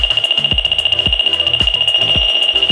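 An SEB-003 PRO bug and hidden camera detector sounds its alarm near a wireless camera, a loud steady high beep with rapid repeating ticks pulsing about twice a second, close and alone.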